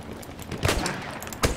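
Gunfire in the Battlefield 1 video game, a handful of sharp gunshot bursts cracking through a busy, noisy battle mix, with a louder burst near the end.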